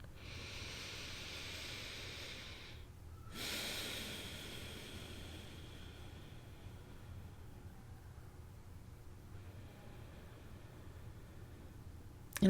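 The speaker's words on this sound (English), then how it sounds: "And we're breathing." Slow meditative breathing, a long hissing inhale followed by a softer, drawn-out exhale, faint and unhurried against quiet room noise, with no speech.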